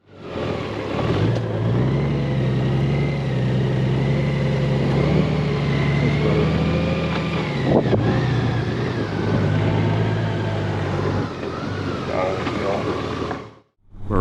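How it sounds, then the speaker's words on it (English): A motorcycle engine idles and hums steadily while the bike turns around in the middle of a road, with a near, continuous drone and slight pitch swells before cutting off at the end. "Or at least I got the bike turned around in the middle of the road"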